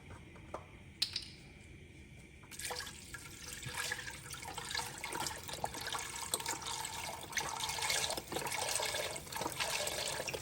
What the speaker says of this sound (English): I'm going to add our chicken broth.